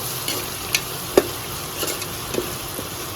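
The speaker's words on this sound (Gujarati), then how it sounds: "હવે પાછું હલાવી નાખીએ એટલે ફરાઈ જાય મસ્તીનું" Veg biryani stirred in a pan as masala fries, with a few scattered scrapes and clinks of the spoon over a faint, steady sizzle. Close by, sparse and irregular.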